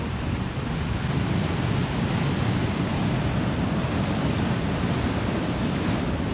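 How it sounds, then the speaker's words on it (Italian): Mediterranean waves crash against rocks near Palermo, a heavy unbroken roar of surf with wind noise on the microphone throughout and no talking. "C'è la forza del mar Mediterraneo che colpisce sugli scogli, infrange le sue onde"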